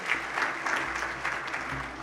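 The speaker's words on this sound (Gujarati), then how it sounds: "જોરદાર તાળીથી વધાવી" A crowd claps steadily at a modest distance, a soft even patter of many hands throughout.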